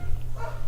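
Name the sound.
dog barking in the background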